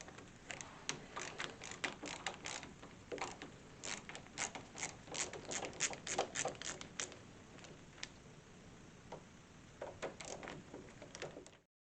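A Kwikset SmartKey lock latch is being taken apart by hand, with a quiet run of metallic clicks, ratcheting snaps and small mechanical rattles heard close up, with no voices over them.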